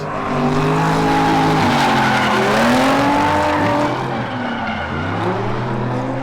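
Drift cars slide across a hot race track during a drifting competition, their tires squealing in long, loud, wavering screeches layered over engine roar, continuous and close.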